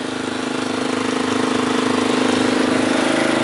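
A newer Can-Am ATV engine idles steadily nearby, a continuous mid-pitched mechanical drone with a fine rapid pulse that grows slightly louder, with no talking.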